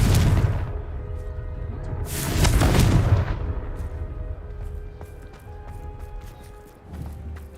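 A fiery Confringo spell explosion from Hogwarts Legacy bursts loudly around the middle, a broad roaring blast that swells and then fades into a rumbling tail, with lighter clicks and thuds before and after.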